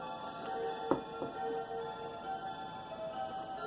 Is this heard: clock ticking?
yes